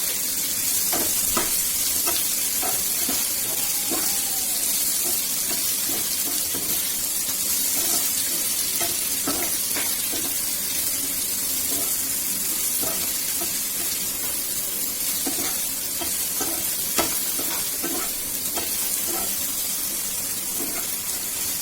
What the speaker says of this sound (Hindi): थोड़ी देर इसको भूनेंगे हम, 5 मिनट तक इसको भूनेंगे हम।